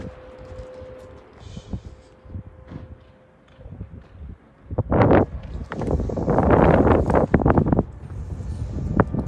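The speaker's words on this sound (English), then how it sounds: "it is getting very cold and very windy" Strong cold wind gusts in Jaywick, buffeting the microphone with rumbling bursts that build to a loud sustained roar in the second half after quieter scattered rustles.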